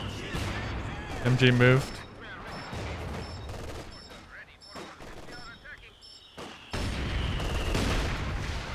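An artillery barrage and gunfire in a 3v3 real-time strategy battle on the Port of Hamburg map, with repeated booms and rattling shots under a player talking.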